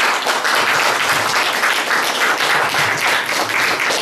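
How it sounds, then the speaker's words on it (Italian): A crowd of local residents at an outdoor campaign meeting for candidate Massimo La Porta in Moio di Agropoli applauds steadily and loudly, a dense, even wash of clapping with no talk over it. "Un applauso"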